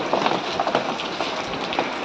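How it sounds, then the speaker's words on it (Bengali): Steady light rain patters on a surface nearby in Kolkata, a dense, even hiss with small scattered drops and no voices. "একটু একটু বৃষ্টি পড়ছে"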